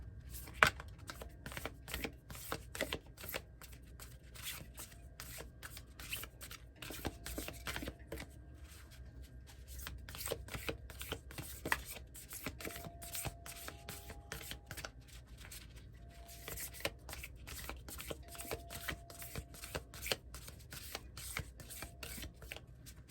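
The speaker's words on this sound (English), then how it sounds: "These heart cards are a little difficult to shuffle." Heart-themed cards riffle and shuffle repeatedly in quick, crisp bursts, close up, with soft handling noises between runs and no talking.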